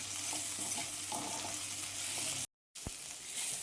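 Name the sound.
stirring capsicum fry with spice powder in a pan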